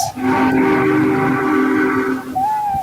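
A train whistle in an animated show sounds one long, loud, steady multi-tone blast lasting over two seconds, then gives way to a thinner single tone near the end.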